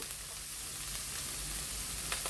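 Onion and green chili hitting hot oil with browning garlic in a pan, giving a steady, close sizzle that holds evenly throughout with no talking.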